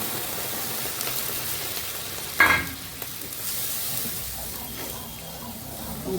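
Water poured into spice masala frying in a pan for paneer kofta curry, a steady sizzling hiss with a sharp splashy burst as the water hits, then a calmer bubbling sizzle, close by.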